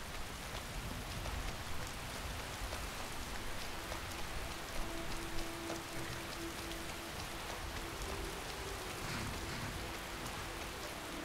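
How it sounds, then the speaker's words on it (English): Steady rainfall in the video game Skyrim patters densely on surfaces, a constant hissing wash that stays even from start to finish. "Of course, the rain starts."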